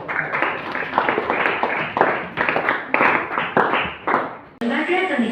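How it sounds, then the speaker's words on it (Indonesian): A room of people clapping together in a class session, a dense steady burst of applause lasting several seconds with faint voices mixed in, ending in an abrupt cut. "Jadi kita berikan aplaus."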